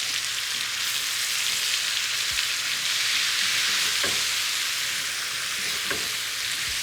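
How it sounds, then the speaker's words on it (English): Vegetables sizzle loudly in a hot pan, a continuous crackling hiss with occasional soft knocks of a utensil stirring, and no voices. "And now we're gonna go and start stirring."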